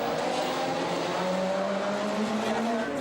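Mosley's Radical race car passes during an endurance race, its engine a loud, rising-and-falling whine with a steady drone beneath, no voices heard.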